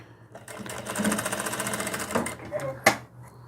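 Sewing machine topstitching a seam along the edge of fabric for a cloth doll's dress, a steady rapid whir of stitching running near and loud, pausing briefly with a small clack near the end.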